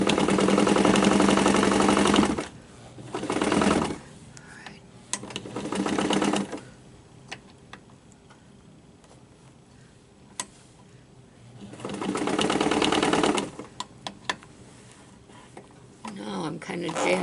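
Sewing machine stitching a fabric seam on an Easter table topper, running in loud bursts of a few seconds each, separated by quieter pauses with small clicks and handling noises.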